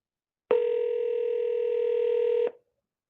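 A single steady telephone tone sounds for about two seconds on a call to an MCI 800 number, a loud, even electronic buzz that starts and stops abruptly with silence on both sides.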